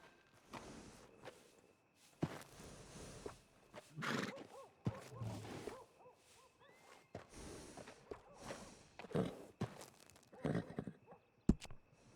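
A workhorse in Red Dead Redemption 2 neighs and snorts while its hooves clip-clop at a walking pace. The sounds are faint and intermittent, coming in bursts, with no voices.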